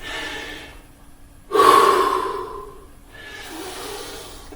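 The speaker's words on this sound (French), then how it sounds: "Je respire un petit peu, hein, je reprends mon souffle moi aussi." Heavy, breathy gasping and panting from a person catching their breath after a full-body CrossFit workout, a loud sharp inhale followed by slower, fading exhales close to the mic.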